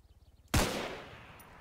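A single loud gunshot with tracer rounds cracks out in Arma 3, cutting through quiet rhythmic low thumping and then ringing off in a long decaying tail.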